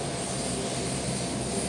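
A Hercules military transport plane coming in to land drones steadily with propeller-engine roar, sustained and moderately loud for a brief moment, no voices over it.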